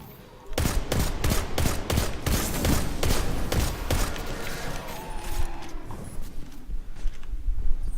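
Nameless Midnight scout rifle in Destiny 2 firing rapid bursts of shots, a dense run of sharp cracks, loud and close, with faint game sound effects underneath.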